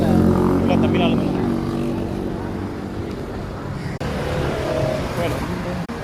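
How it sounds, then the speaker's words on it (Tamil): Busy Singapore street traffic on a Sunday rumbling steadily nearby, with engines and passing vehicles, while someone talks over it. "டிராஃபிக் எவ்வளோ போகும்"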